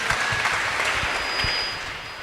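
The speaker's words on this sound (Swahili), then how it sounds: "tumpigie makofi." A church congregation at a Kikuyu service claps together, a brisk burst of many hands that holds steady and then starts to thin at the end, loud and close in a large room.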